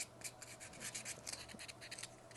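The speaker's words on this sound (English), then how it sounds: "Just a little bit of sanding." Light sanding on a small carved wooden Mrs Claus figure, quick scratchy rubbing strokes in short bursts, close and quiet, with no talking.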